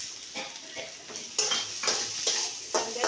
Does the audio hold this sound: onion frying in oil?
yes